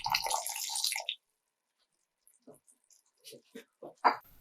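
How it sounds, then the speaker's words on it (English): A cup of water is poured into a cooking pan of keema, a brief close splash and hiss lasting about a second, followed by faint scattered drips and small clinks in a quiet kitchen. "then add 1 cup of water."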